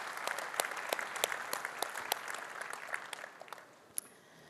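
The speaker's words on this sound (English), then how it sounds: "please join me in giving them a warm thank you applause" Faint audience applause at an IT industry event, a thin spread of scattered claps with a few sharp nearer ones, tapering off toward the end.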